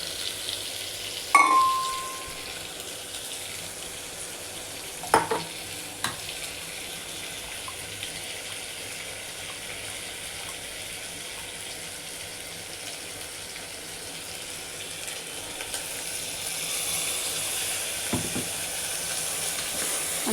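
Bombil fish stirred and sautéed in masala in a pan for a brinjal curry, a steady broad sizzle running throughout with a few louder scrapes and knocks from stirring.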